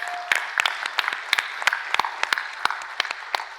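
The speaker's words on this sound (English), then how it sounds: "They need a round of applause." Scattered clapping from a small crowd, irregular sharp claps continuing steadily for a few seconds.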